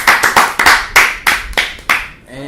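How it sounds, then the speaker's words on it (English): A small group of people on a podcast clap in loud, close, uneven bursts, about eight distinct rounds of clapping spaced across the moment before it trails off. "Let's give him a round of applause, Mr. McGill."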